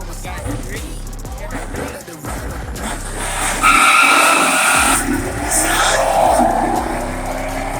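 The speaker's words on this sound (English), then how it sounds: "got one warming up the tire" Stock car skidding as it warms its tires on a race track, a loud continuous tire squeal and engine roar rising and falling, close and dominant.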